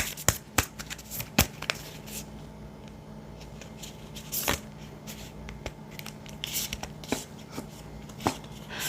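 Tarot cards being shuffled for an advice card, a series of crisp close flicks and riffles at irregular intervals over a quiet background, with no talk.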